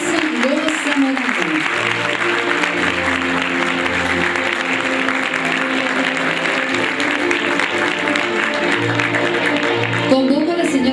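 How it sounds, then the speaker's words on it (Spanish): Audience applause at an international labour procedural law congress panel, a steady sustained clapping wash lasting throughout, with a presenter's voice speaking over it. "Un aplauso"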